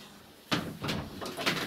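Door being opened indoors, a few scraping, knocking clatters of the handle and leaf in quick succession after a brief quiet start, fairly close.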